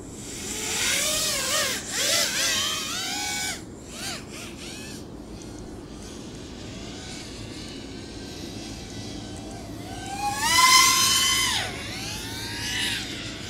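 FPV racing drone with Racerstar SPROG-X 2205 motors, flown for the second time after a motor swap, whining through rising and falling passes that sound loud up close, fade to a distant drone, then swell again on a final near pass.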